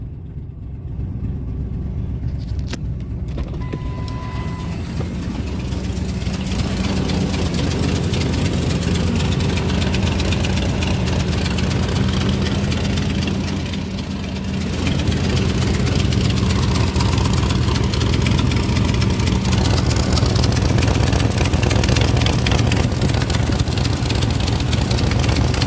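A 2000 Ford F150 engine idles in gear with a rough, chugging low rumble, loud and continuous throughout, close to the vehicle.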